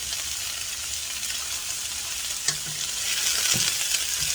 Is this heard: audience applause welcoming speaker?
no